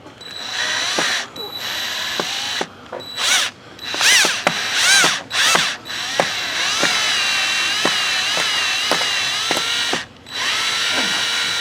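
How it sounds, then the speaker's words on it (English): A screw gun backs a stripped, rusty screw out of an RV roof. Its motor whirs in repeated short bursts with brief pauses, and a ratcheting clatter runs through a longer continuous run close by. "Don't let the gun twist more than what the screw can do."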